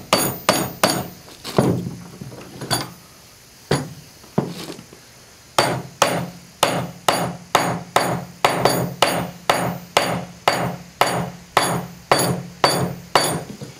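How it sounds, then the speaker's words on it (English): A hammer taps a lashed dovetail joint together on handmade woodland furniture, with sharp, close wooden knocks: a few scattered blows, a pause, then a long, steady run of evenly spaced taps. "I'm just tapping it to the top,"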